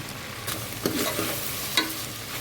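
Boti (goat tripe) curry with freshly pounded ginger and garlic cooking in oil, a steady soft sizzle with occasional stirring scrapes over a few seconds.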